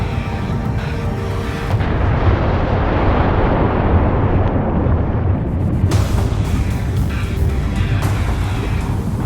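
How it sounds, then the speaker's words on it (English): An active volcano in Vanuatu erupts with a loud, continuous, heavy roar and deep rumble, a thick wall of blasting noise that holds steady for the whole stretch with a slight surge partway through. "It often erupts several times an hour,"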